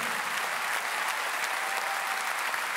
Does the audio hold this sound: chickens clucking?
no